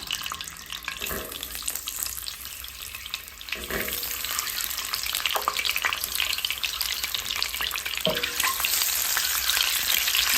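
Eggs frying in a pan for a paneer and egg dish, a continuous bright sizzle that swells louder partway through, with a few soft scrapes and no speech.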